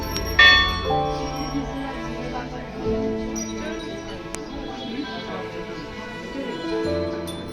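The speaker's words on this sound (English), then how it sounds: "a bell for each wish fulfilled" Temple bells ring at Ghorakhal Golu Devta temple in Kumaon, Uttarakhand, with several metallic strikes leaving long, overlapping ringing tones, moderately loud.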